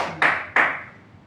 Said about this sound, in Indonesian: Tepuk tangan pada Zainah.